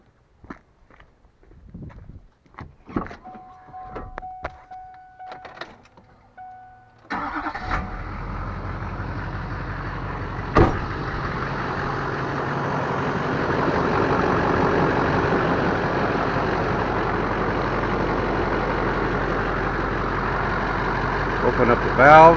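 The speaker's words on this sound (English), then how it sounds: "I'm going to fire up the truck." A truck engine cranks and catches, then settles into a steady, rumbling idle that runs to the end, with footsteps and small clicks heard before it starts.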